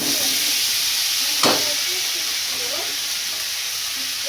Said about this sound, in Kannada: ಬಟರಲ್ಲೇ ಸ್ವಲ್ಪ ಚೆನ್ನಾಗಿ ಫ್ರೈ ಆಗಬೇಕಿದು.